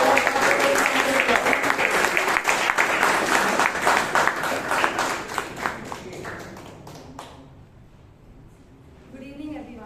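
Audience applause at a Toastmasters meeting in Bangalore, dense steady clapping filling the room for several seconds before thinning out and fading, with a voice starting to speak near the end.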